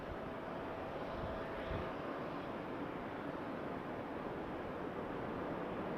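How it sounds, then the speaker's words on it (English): A Jazz Dash 8 Q400 turboprop lands at Vancouver airport, its steady, faint broadband engine roar and rushing air holding constant, with no voices. "Q400 coming in."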